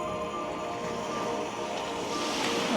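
Waves wash steadily against an icy, rock-strewn Midwest shoreline in deep freeze, a continuous wash of surf with wind buffeting the microphone, fairly faint and with no talking.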